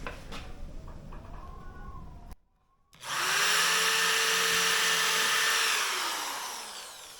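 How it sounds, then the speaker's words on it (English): A power drill running on AC power from a Jackery Explorer 1000 Pro power station, a brief low whir, then a pause, followed by a long steady high-pitched spin that winds down at the end, heard close. "So yeah, so let's test the drill."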